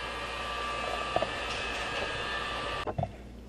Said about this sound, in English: we're gonna use the heat gun and melt the plastic a little bit so it doesn't get deformed